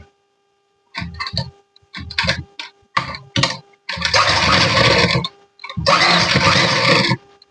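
Domestic sewing machine stitching fabric pieces of a child's Krishna costume dress together, running in several short bursts and then two longer steady runs, close and fairly loud with no talk.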